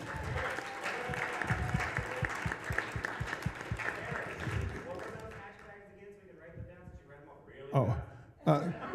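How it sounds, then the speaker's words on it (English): Applause for the panel guests at a social media strategies session comes as a clear run of clapping for several seconds, then fades. Talk and scattered voices take over near the end. "Can we give them all a big round of applause?"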